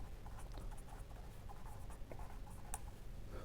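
Quiet, rapid scratching and tapping of chalk writing a Fourier integral on a board, steady strokes with small clicks, close and alone.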